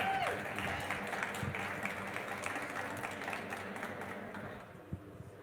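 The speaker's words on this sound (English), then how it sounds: "Can we get a round of applause for Michael, please?" Audience applause at a startup competition grand final in Las Vegas, a dense wash of clapping from a crowd that starts strong and gradually fades over several seconds.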